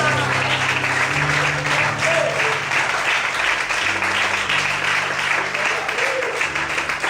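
Church congregation applauding together after a sermon, a dense, steady wash of clapping lasting throughout, with a low sustained tone and faint voices beneath.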